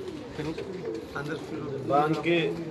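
Pigeons in a rooftop loft holding Ferozpuri, Rampuri and Banke breeds coo softly in brief murmuring bursts, close by, with a voice talking faintly over them.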